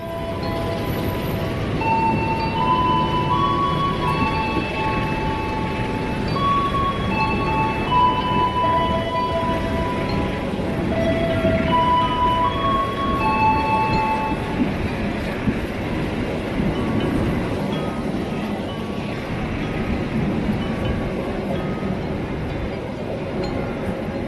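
Argo Cirebon executive and economy passenger train running on rails between Jakarta Gambir and Cirebon, a steady continuous rumble of wheels and carriages with scattered squeals and clinks, moderately loud throughout.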